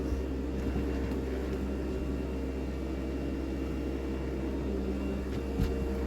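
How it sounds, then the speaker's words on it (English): A workshop extractor fan drones in the background, a steady, even hum and whoosh with low rumble that stays constant throughout, no voices over it. "The noise you can hear in the background is the extractor fan"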